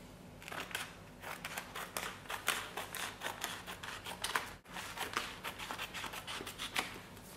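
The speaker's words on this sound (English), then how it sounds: "So I'm just going to cut this out with the scissors." Scissors snip through material while a costume piece is cut out, giving a close, quiet run of quick crisp cuts and rustling with short pauses and no talking.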